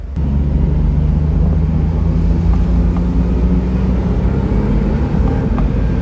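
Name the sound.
Smart Roadster engine accelerating with more gas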